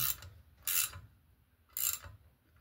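Valve spring compressor being tightened on an LS V8 engine: three short bursts of metallic ratcheting clicks, close and alone, separated by quiet pauses.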